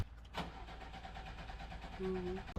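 A car engine on carburetor-fed petrol cranks and catches, settling into a low idle for a few seconds, quiet and somewhat distant.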